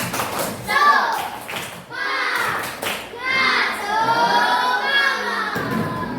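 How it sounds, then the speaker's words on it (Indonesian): Schoolchildren in a classroom clap their hands together in a rhythmic spirit clap, loud sharp claps in short bursts with kids' voices chanting and shouting throughout. "mari kita tepuk semangat dulu"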